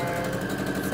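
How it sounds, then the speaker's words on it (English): A sewing machine runs steadily and up close, sewing down the side of a reusable fabric mask, a continuous mechanical hum throughout. "And then sew all the way down until you get about 1/4 left of the fabric."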